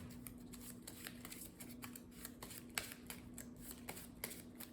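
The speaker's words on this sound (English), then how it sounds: "And let's shuffle up the deck." A deck of playing cards is shuffled on a tabletop during a solo card game, giving soft riffling bursts and light repeated flicks, quiet and close, with no talking.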